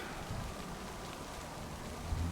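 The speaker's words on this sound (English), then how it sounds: "It's starting to rain." Rain beginning to fall on an outdoor garden room build site, a steady soft wash of patter that holds evenly throughout.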